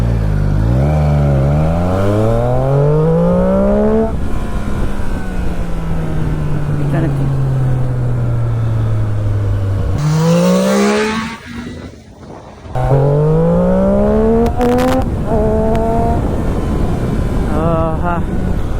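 A Triumph Street Triple 675 motorcycle is ridden hard, its engine revving up through repeated gear changes with rising and falling whine, loud and close, briefly dropping off mid-ride before pulling away again.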